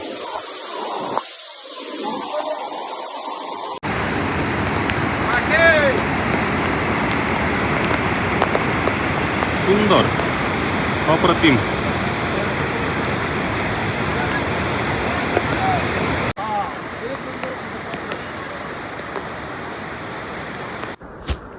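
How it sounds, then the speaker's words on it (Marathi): Steady roaring rush of a waterfall and flowing stream at Harishchandragad, loud and continuous, with gusts of wind; a brief spoken word near the start. "वाऱ्याच्या आणि धबधब्याच्या आवाजाच्या मिलनातून निर्माण होणारा हा सुंदर ध्वनी"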